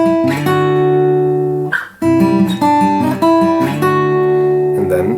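Acoustic guitar strumming the chords of a song at a fast pace with sliding chord changes, loud and close, strings ringing between strums, no talking.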